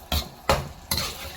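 A mala dish stirred in a pan with a utensil, three distinct scraping strokes over a light sizzle, close up and without talk.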